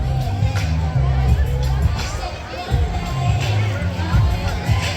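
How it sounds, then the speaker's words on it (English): A crowd gathering at a campus event fills the space with continuous, overlapping chatter, a steady wash of voices with brief surges of louder talk. "Well, the crowd is filling in."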